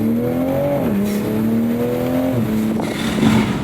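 A 2023 Toyota Supra engine fitted with an MST V2 intake and turbo holds a loud, steady drone. It rises and dips in pitch as revs change, then picks up a breathy rush near the end.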